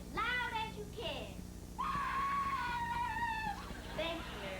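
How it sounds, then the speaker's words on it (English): A child screams loudly in drawn-out, high-pitched wails with brief breaks between bursts, close and strained, with a whimpering edge. "scream as loud as you can."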